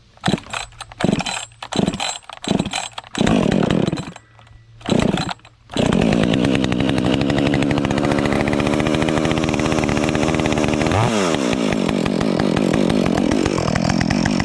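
A Husqvarna two-stroke chainsaw warms up, starting with several short bursts that sputter and rev before settling at about six seconds into a steady, loud, close idle-to-high whine. A quick rev dip comes near the end.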